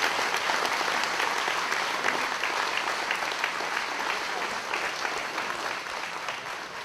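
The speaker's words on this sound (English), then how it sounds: "Let's give all the members of the Navy ROTC a big round of applause" A hall full of people applauds the Navy ROTC color guard at a veterans' hall of fame induction ceremony, a sustained, dense clapping that fades only slightly toward the end.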